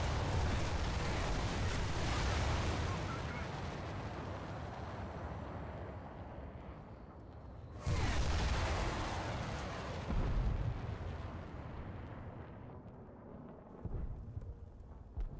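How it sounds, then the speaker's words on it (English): Missile launches from a modern anti-air vehicle in the War Thunder video game, heavy roaring rumbling blasts that swell, fade and then burst again loudly midway, with further thuds toward the end. "I can actually let this one reload and the other one just fire the missile."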